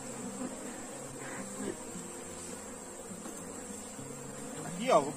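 Honey bees droning around an opened hive during swarm management, a steady continuous buzz running alone throughout with a few louder passes close by near the end.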